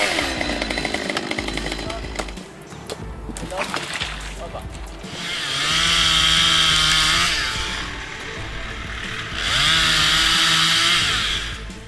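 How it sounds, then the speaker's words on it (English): Chainsaw cutting into a tree trunk outdoors, with rough engine noise and knocks at first, then two long, loud bursts of high-revving cutting, close by. "From the sound of the chainsaw to the crack of the trunk"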